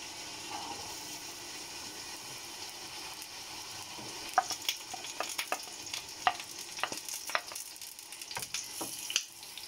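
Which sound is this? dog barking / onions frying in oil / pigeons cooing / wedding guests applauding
onions frying in oil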